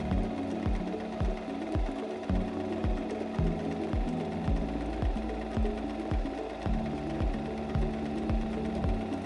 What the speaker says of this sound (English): Release the lever and then continue sewing to the end of the fabric.